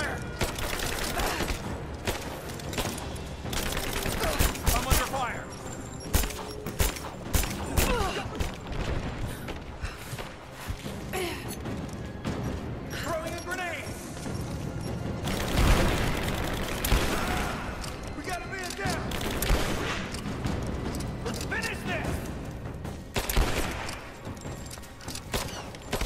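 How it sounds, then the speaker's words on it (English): Gunfire in Rise of the Tomb Raider: sustained rapid bursts of shots and mechanical clatter, with louder cracks and booms scattered throughout, dense and continuous over game ambience. "I'm taking fire."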